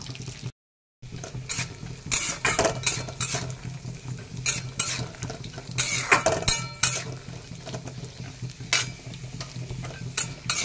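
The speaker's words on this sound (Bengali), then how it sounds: "আর নিয়ে নিয়েছি গুঁড়ো দুধ। তো এটাকে এখন গুলে নেব।" Powdered milk being stirred to dissolve in a bowl for carrot halwa, with bursts of spoon clinking and scraping against the vessel in an irregular rhythm, close and fairly loud, briefly cut to silence near the start.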